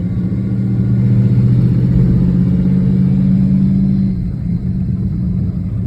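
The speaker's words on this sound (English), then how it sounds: "This exhaust kind of sounds cool, but it's mostly just loud and annoying." A loud Chevy Nova exhaust rumbles and revs continuously with a deep throaty drone, then eases off slightly near the end.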